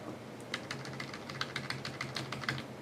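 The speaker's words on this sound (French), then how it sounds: "Et on tape notre deuxième titre." Quick, steady typing on a computer keyboard, a close run of light clicking keystrokes with no voices over it.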